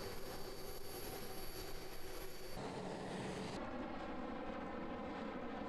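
A private plane's jet engines roar loud and steady, the tone dropping in abrupt steps as the aircraft passes.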